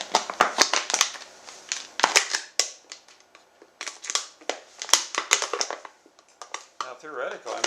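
The bottom being cut out of a plastic Coke bottle: loud, close crackling and crunching of the plastic in dense irregular bursts, continuous through the whole stretch.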